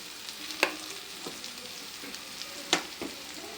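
Soya chunks with vinegar, soy sauce and green chilli sauce are stirred in a pan, giving a faint low sizzle broken by a few sharp spoon knocks and scrapes.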